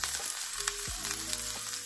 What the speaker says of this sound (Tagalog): Nagigisa ko ng onion, guys.